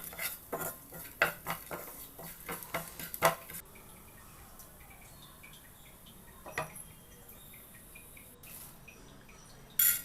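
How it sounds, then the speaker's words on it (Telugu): Spices dry-roasting in a pan over a low flame, a run of quick metallic clinks and scrapes from a spoon stirring, then a quieter faint crackle with one more clink near the end. "సిమ్లో పెట్టుకొని 1 మినిట్ వేయించుకొని పక్కకు తీసుకోవాలి."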